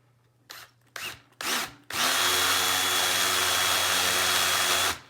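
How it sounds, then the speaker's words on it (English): A power drill bores straight down through a guitar pickguard, with three brief trigger bursts followed by a long, loud, steady whine of drilling, close up. "I'm just going to drill straight down here."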